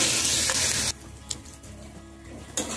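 Chili, turmeric and coriander powders sizzle loudly in a hot pan while being stirred, the frying crackle strong for about a second, then dropping to a softer hiss with light stirring scrapes before flaring up again near the end.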